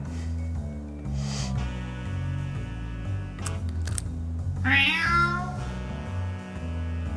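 A cat character in the video game Dreams meows over steady low game music, one drawn-out, rising-and-falling mew standing out clearly near the end amid a few clicky effects.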